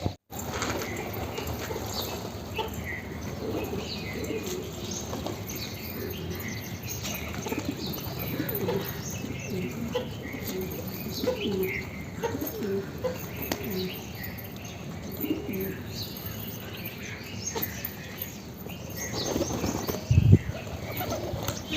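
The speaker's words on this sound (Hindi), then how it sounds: "बाहर से फ़िलहाल तो एक ही कबूतर आया था जिसको हमने पकड़ लिया" Pigeons in a loft, with soft low cooing and scattered wing flaps and shuffling, fairly close against a busy background, with a louder thump near the end.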